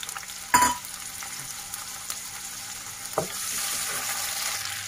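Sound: tomatoes frying in hot oil in a kadai

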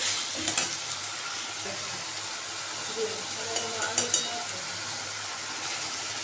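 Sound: fish curry sizzling and stirred after adding tomato sauce

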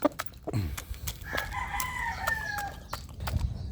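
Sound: young rooster (stag) crowing in chicken farm

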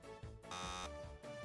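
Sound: game show buzzer

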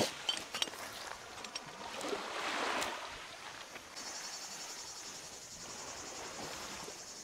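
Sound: crickets chirping

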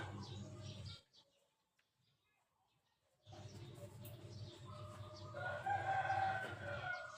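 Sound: rooster crowing

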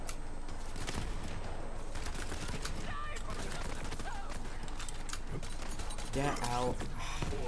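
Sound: pistol gunfire in the video game Borderlands 3

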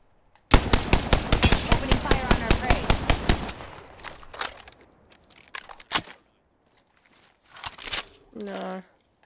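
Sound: gunfire in the video game Apex Legends

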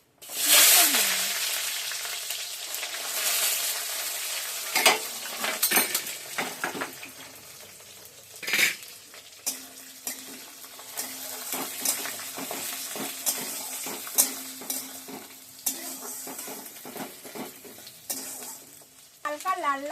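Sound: chopped onion frying with bay leaf and whole spices

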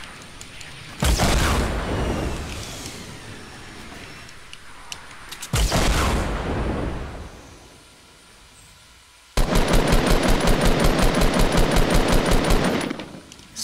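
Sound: gunfire in the video game Fortnite

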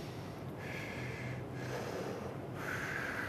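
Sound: breathing inside a respirator mask during a fit test

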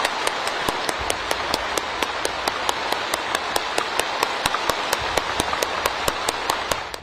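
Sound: nearly 3,000 voters standing and applauding

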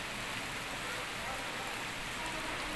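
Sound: rain falling in Pakistan

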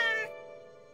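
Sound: cartoon space cat meowing

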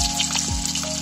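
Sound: sautéing spice paste for snail dish

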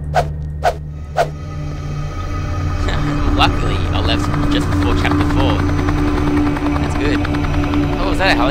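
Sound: helicopter in video game Nightmare House 2

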